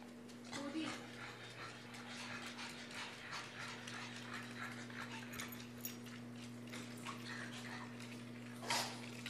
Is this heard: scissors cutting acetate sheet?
no